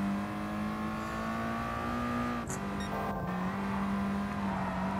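Mazda Atenza engine in the racing game Gran Turismo Sport, a steady droning hum held at constant pitch that dips briefly at a gear change mid-way, then settles again, loud and continuous.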